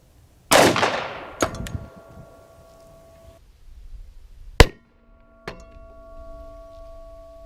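A Glock 36 pistol firing .45 ACP at a Kevlar helmet outdoors: a sharp shot followed by a few metallic clangs with ringing tones, spaced over several seconds.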